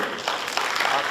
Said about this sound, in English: Give a huge applause to the vision of founder president